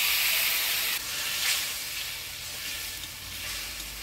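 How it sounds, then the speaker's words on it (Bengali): Potato and brinjal frying with a ground paste of green chilli and cumin for a Bengali village fish curry, a loud close hissing sizzle that surges briefly and stays steady, no voices. "মশলার সাথে আলু বেগুনটা ভালো করে কষিয়ে নিলাম"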